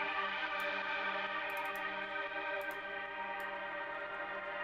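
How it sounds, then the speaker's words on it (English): A sustained acid techno synth tone with a rich, processed texture, its notes repeating and trailing off in delay echoes. "delay"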